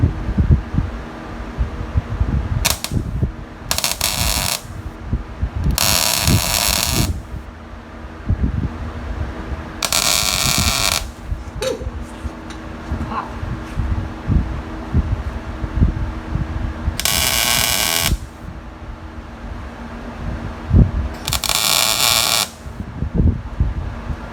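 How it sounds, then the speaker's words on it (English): Welding repair on the rusted frame of a Jeep XJ, with several bursts of crackling, buzzing arc lasting a second or two each over a constant machine hum and scattered clanks, close and fairly loud. "Welding in shorts, good times."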